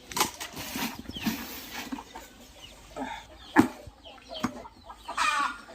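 Soft, scattered clucking from a few chickens nearby, two Silkies and a Golden Sebright, with short irregular calls and rustling in a quiet setting.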